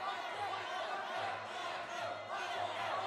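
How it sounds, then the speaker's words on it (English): A crowd at a fight night roars and chatters in a steady, dense din with no letup, voices blending into one continuous wash of excitement. "And you see the crowd just getting so excited."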